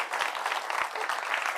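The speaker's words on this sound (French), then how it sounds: "Est-ce qu'on peut applaudir fort pour le sociologue?" A studio audience at a talk show applauds steadily in a brief burst of dense clapping, moderately loud and continuous.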